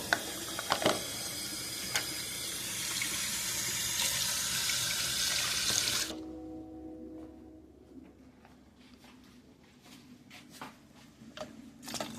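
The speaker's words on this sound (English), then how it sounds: "I just need to add 1/2 cup of water." Half a cup of water runs from a tap into a pot for Old El Paso Spanish rice, a steady hissing stream for about six seconds, then it stops, leaving faint kitchen clinks and a low hum.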